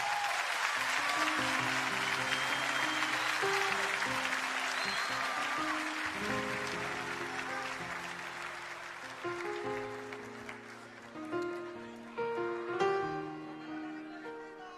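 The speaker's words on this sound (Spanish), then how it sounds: "Fuerte el aplauso." Audience applause at a live concert: a loud, dense wash of clapping from a large crowd that slowly fades, with sustained musical tones rising underneath toward the end.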